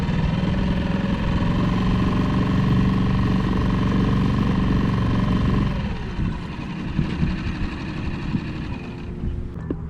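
Dinghy outboard engine running at half throttle while dragging an anchor, a loud steady drone that suddenly drops in pitch and level partway through, then continues rougher and quieter.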